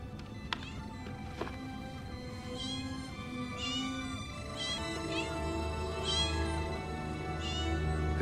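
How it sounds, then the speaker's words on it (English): Several high, thin newborn kitten mews overlap in repeated bursts, close by, over a steady low background hum. "It would appear that Spot has had her kittens"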